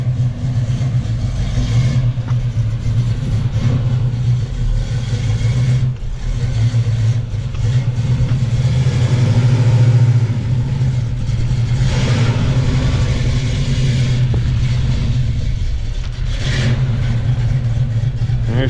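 A hot rod car pulls away, its engine rumbling and revving loudly up close, then gradually drawing off while staying steady for about nineteen seconds with no talk over it.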